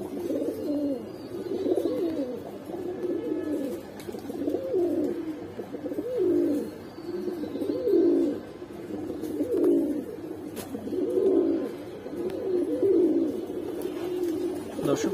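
Giribaz pigeons kept at a home loft coo in a steady, rhythmic series of rolling bursts about a second apart. The cooing is close and clear over a low background murmur, with no distinct talk.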